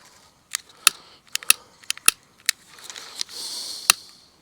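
A match struck to light paper outdoors in the wind: several sharp scratchy strikes and clicks at uneven intervals, followed by a brief airy flare, close and fairly loud with no talk.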